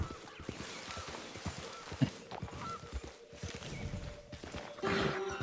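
A horse's hooves clip-clop in a quick uneven rhythm close by, with a brief whinny-like call near the end over a low steady hum, no voices clear.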